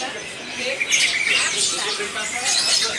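Many small caged birds chirping and squawking together at a bird market in Magelang, Indonesia, a busy, bright chatter.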